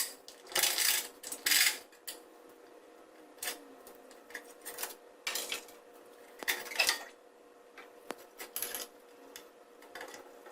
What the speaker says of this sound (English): let's go ahead and take all those cylinder head bolts back off